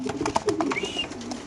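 Racer pigeons, a caged male and female pair with leg tags, coo in low repeated bursts close by amid a busy, noisy market background.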